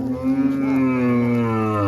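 A bull calf at the Faridpur Anandabazar cattle market lets out one long, loud, close moo that holds steady for about two seconds, with no talking over it.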